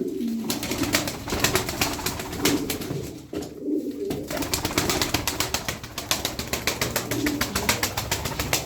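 Pigeons in a loft coo in repeated throaty rolls, close and fairly loud, over a busy background of wing flutters and shuffling, with no talking.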